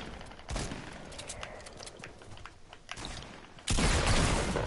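A pump shotgun fired in Fortnite lands as a couple of sharp, loud blasts, the last one heavy and sustained, among quieter clicks and rattles of a busy match.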